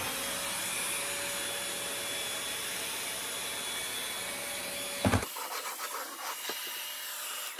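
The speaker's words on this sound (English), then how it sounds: "So we got this little vacuum here that runs at about 250 watts or so." A small 250-watt vacuum cleaner runs in a kitchen, its steady loud whine and broadband rush holding for about five seconds before it cuts off abruptly, leaving a few faint clicks and handling noises.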